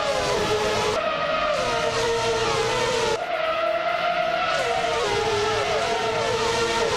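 Racing cars in a video game at the start of a race at Central International Circuit, including a Renault R29, roaring loudly and continuously with whining engine pitches rising and shifting as the pack accelerates.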